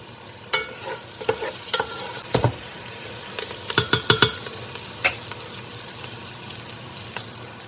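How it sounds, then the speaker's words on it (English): Sautéing breakfast food is stirred in a cast-iron Dutch oven over campfire charcoal, a low sizzle punctuated by a series of sharp metallic scrapes and clanks, bunched in quick bursts of three or four. "Time to stir."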